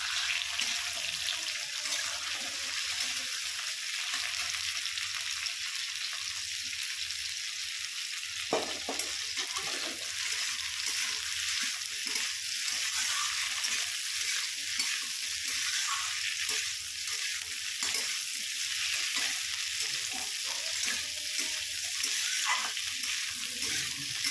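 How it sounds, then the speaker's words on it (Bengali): Cauliflower fries in a pan with a loud, continuous sizzle and repeated stirring scrapes, close by and with no talking. "ফুলকপিটা দিয়ে নিয়েছি, এবার ফুলকপিটা দিয়ে একটু ভাজা ভাজা করে নেবো।"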